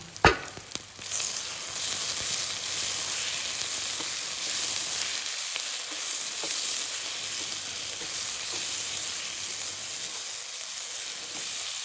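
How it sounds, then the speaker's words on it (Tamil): Chilli powder, coriander powder, turmeric and kasuri methi sautéing in hot oil for a capsicum gravy, giving a steady close sizzle and frying hiss with a few faint stirring scrapes, no talking. "மசாலா வாசனை போகிற வரைக்கும் கொஞ்சம் நேரம் வதக்கிக்கோங்க"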